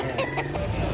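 A rooster at the Carbon Market in Cebu clucks close by in a brief burst of short calls, with market noise behind it.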